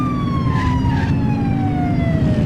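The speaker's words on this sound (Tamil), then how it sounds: "இதே மாதிரி தான் இருக்கும் வைசிட்டியில் ஆம்புலன்ஸ் போலீஸ் சவுண்டு" Police car siren in The Precinct video game, a steady electronic wail with sliding tones sounding continuously over a dense rumble of engine and street noise, loud and close throughout.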